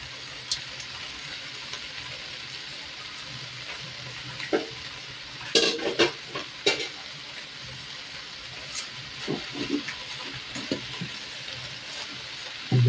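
Cabbage goes into a hot pan and is sautéed with a spatula, a steady sizzle broken by scraping strokes and clanks, the loudest in the middle stretch.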